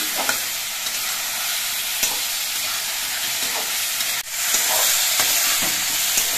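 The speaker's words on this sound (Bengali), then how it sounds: "এবার এই মশলা দিয়ে সবজিগুলোকে আরো কিছুক্ষণ কষিয়ে নিতে হবে।" Vegetables with spices sautéing in a pan for fish curry, a loud continuous sizzle with occasional stirring clicks and a brief dip partway through.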